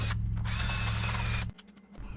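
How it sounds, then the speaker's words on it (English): A power drill whines steadily for over a second while drilling shelf pin holes through a jig, then stops, followed by a few faint clicks and mechanical rattles nearby. "So now we'll continue drilling till we get to the end of the jig."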